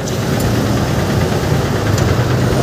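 A low, steady rumble of engines idling in traffic jammed after heavy rain near an Osmeña on-ramp, a dense mechanical drone with faint vibration and no speech.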